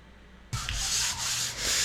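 Sanding of plaster patched over a water-damaged wall near a window, a steady close rasping scrape that starts abruptly and runs in long back-and-forth strokes with slight swells, no talking.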